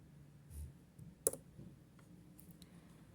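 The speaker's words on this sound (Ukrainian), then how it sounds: "Далі знаходимо на клавіатурі одиничку." Keys pressed on a computer keyboard while entering digits into a form, giving a few faint, sparse clicks with one sharper tap standing out amid quiet room noise.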